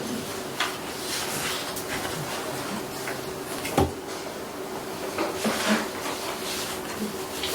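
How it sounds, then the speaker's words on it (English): A door being shut in a meeting room gives a single firm thump partway through, standing out against a steady room hum with faint background noise. "Wayne, if we shut that door, they had said before that they could hear better with their door shut"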